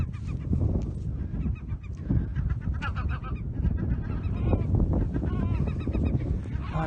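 An agitated seabird on a cliff-top island off Wexford, Ireland, calls harshly and repeatedly while swooping close overhead, loud honking cries tumbling over one another with wind and background noise throughout.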